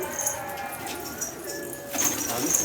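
Pigeons coo softly and repeatedly nearby while being hand-fed outdoors, low rolling calls over steady ambient noise, with a burst of wing flutter and rustling near the end.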